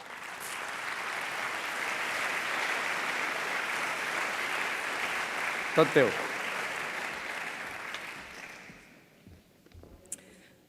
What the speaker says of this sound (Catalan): Gràcies, sisplau, un fort aplaudiment per ells.